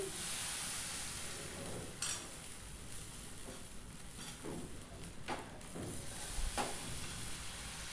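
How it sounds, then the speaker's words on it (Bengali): Chikol pitha batter sizzles steadily in an oiled wok, a continuous close frying hiss broken by a few sharp utensil clicks and scrapes. "এবার আমি ব্যাটারটা কড়াইয়ের ওপর দিয়ে দিচ্ছি তেলটা একটু ছড়িয়ে নিয়েছি"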